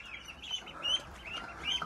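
Ducks kept in a farm duck cage give a few short quacks and chirps, close by and fairly quiet against a calm background.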